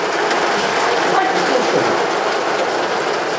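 Rain falls outside a fourth-floor window in Germany, a continuous even hiss of drops with no breaks, heard alone.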